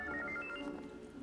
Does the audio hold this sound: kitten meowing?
no